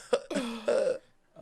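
A man's harsh coughing fit, a few rough bursts with throat-clearing over about a second, close and loud, then a short pause.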